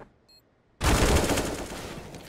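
Loud burst of Counter-Strike: Global Offensive gunfire erupts after near silence, a dense rapid volley that rings on and slowly decays during a professional FURIA versus Sprout esports match.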